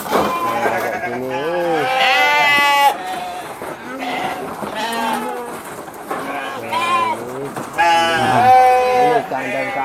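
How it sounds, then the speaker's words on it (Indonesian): Merino sheep bleat repeatedly in a breeding pen while feeding, several loud overlapping calls close by in quick succession throughout. "Ini kandang kawin domba merino ini"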